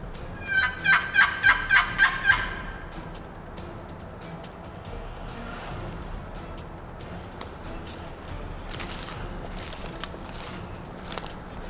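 A wild turkey gobbles once in a rapid rolling burst, fairly close, then fades into outdoor quiet with scattered faint rustles and footsteps.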